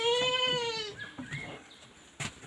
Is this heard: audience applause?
no